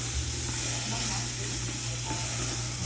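Cajun meatball stew sizzling steadily in a pot as it is stirred, a continuous close hiss with faint scraping, no voices.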